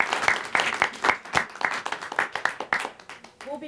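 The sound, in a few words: applause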